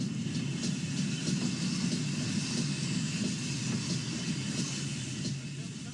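Steady low rumble of a steam train rolling along and drawing into Staverton station, with a constant hiss and faint clatter throughout, gently easing off toward the end.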